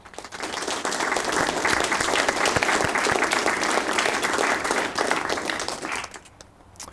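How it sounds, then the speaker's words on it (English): Dense audience applause at a Harvest Soirée fundraiser gala, many hands clapping loudly and steadily for about six seconds before fading quickly. "Give yourselves a huge round of applause for your continued support of GRuB."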